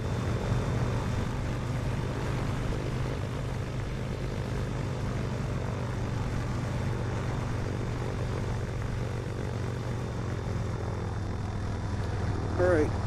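A Cardinal 177B single-prop airplane in a VR flight simulator game drones steadily at takeoff power throughout, a loud, constant engine hum under faint talk.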